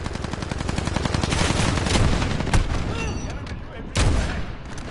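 Dense gunfire in Call of Duty, with a Kar98k and AX-50 in play: loud, rapid automatic bursts rattle continuously, punctuated by a few sharper heavy shots near the end, with a voice faintly audible underneath.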